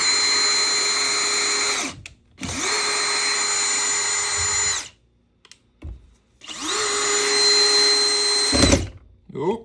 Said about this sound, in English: So you can use a drill for this.